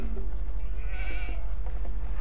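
Sheep bleat in the Age of Empires II HD strategy game, a wavering mid-pitched call over steady game ambience and a low electrical hum, with no talk.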